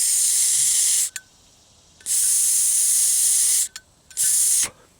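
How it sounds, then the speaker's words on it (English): Air is blown through a carburetor in three strong hissing bursts separated by short pauses, close and breathy, with no speech. "You can hear the airflow through there."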